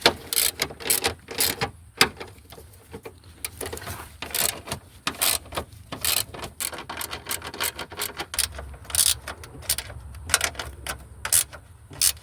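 Socket wrench ratcheting on the front strut bolts of a 2009-14 Nissan Maxima S 3.5L V6, loud, close, irregular bursts of sharp clicking with brief pauses between strokes.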